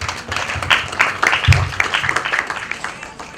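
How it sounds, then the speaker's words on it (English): An audience at a breast cancer awareness campaign launch applauds, a steady wash of clapping with some louder individual claps, under a faint murmur of crowd voices. "I think they deserve a big round of applause"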